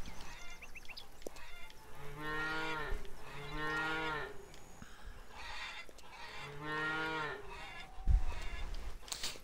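Farm cows in the video game Lumberjack's Dynasty give three long, drawn-out moos with clear tonal pitch, moderately close over a steady outdoor ambience, followed by a brief thump near the end.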